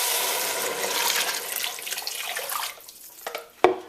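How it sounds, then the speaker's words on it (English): Water pours steadily into a pot of fish soup after a whole pepper has gone in, a broad rushing splash that thins out and ends with a couple of sharp clinks near the end. "And then we're gonna go in with water."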